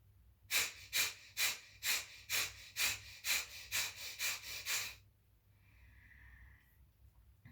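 Deep, forceful belly breaths in a yoga breathing exercise: about ten rapid, evenly rhythmic huffs close to the listener, then a sudden drop to quiet, soft breathing.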